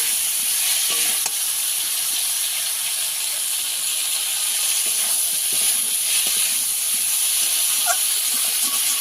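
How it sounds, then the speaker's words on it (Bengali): Food frying in a pan while being stirred, with a loud, continuous hiss and sizzle and faint scraping of the spoon, close and steady throughout, with no voices. "একটু ভালো করে নাড়াচাড়া করে নেব।"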